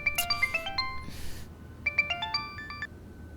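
A mobile phone ringtone plays a bright repeating melodic phrase twice with a short pause between, ringing unanswered in a quiet room at moderate volume with no one talking.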